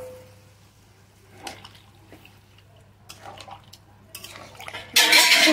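Mutton curry broth poured into a cooking pot and stirred, with scattered clinks and scrapes of a utensil against the pot, then a loud liquid rush near the end.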